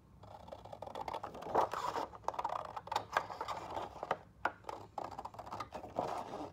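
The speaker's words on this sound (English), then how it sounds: "But like I said, I like to use scissors." Scissors snip through paper in a run of short, crisp cuts with small pauses between them, close up and fairly quiet.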